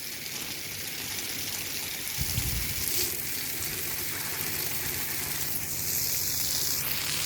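Water poured from a container onto daisies in a village house garden, a steady hissing splash running throughout with a brief louder gush partway through, close by and alone.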